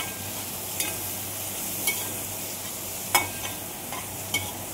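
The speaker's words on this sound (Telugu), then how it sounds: "సో వాటిని కూడా 2-3 మినిట్స్ ఫ్రై చేయాలి" Carrots and paneer fry in a pan with a soft continuous sizzle, broken by a few sharp clicks and scrapes of a spoon stirring at spaced intervals.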